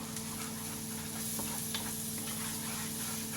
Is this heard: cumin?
yes